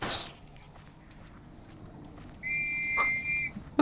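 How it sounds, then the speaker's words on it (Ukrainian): Silverfish in Minecraft give a sustained high whistle near the end, loud and steady, after quiet shuffling steps and background noise. "Чешуйниці свистять, кажуть їхній це атакують."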